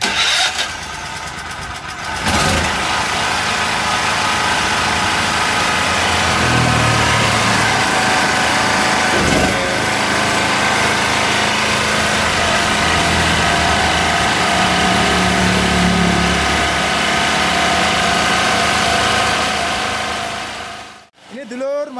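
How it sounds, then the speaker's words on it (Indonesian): Small home petrol generator pulled to start and then running at a steady idle, a loud continuous engine drone close by that cuts off at the end. "Ini mumpung sekalian nyalakan genset buat ngisi bak air mandi, Mas Agil sekalian melanjutkan"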